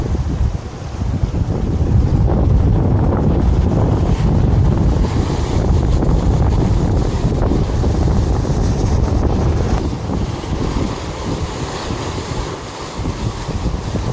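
Strong wind buffets the microphone in a steady, loud roar, with surf and waves churning underneath throughout, on the coast at Lian, Batangas.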